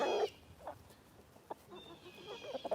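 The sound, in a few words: rooster crowing and clucking on a farm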